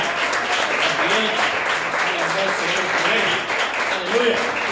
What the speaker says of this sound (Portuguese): Aplauda o Senhor, só para alegrar